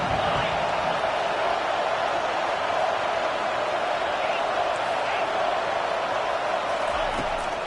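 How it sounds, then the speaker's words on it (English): A college football stadium crowd roars behind the home defense on third down, a steady, loud wash of cheering and noise throughout with no distinct pauses. "Decibels rising as the crowd gets behind this defense on 3rd down"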